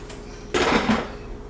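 Cooking pot and its lid clanking in a home kitchen while making vegan walnut-and-mushroom tacos: a single short metallic clatter with brief ringing, preceded by a faint tap, in an otherwise quiet room.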